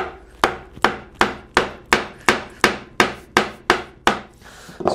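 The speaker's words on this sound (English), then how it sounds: "I still have to use a mallet." Wooden mallet striking a chisel while cleaning out a mortise by hand, eleven sharp, evenly spaced knocks ringing close and loud with no talking.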